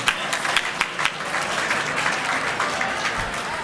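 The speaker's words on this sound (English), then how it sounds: "Again, let's give a big round of applause to the Chamber" Steady crowd applause fills an awards ceremony hall at the inaugural City National Bank Better Beach Awards, dense clapping holding at an even level throughout.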